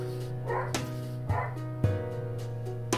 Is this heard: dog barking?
yes